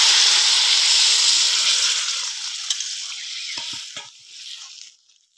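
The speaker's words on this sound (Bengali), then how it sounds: "এবার জল দিয়ে দেবো।" Water poured into a hot pan of frying okra and crab: a loud, steady hiss and sizzle that gradually weakens, ending with a few soft clinks near the close.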